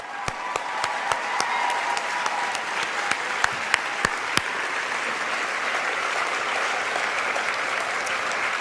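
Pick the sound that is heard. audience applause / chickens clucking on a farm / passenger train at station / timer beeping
audience applause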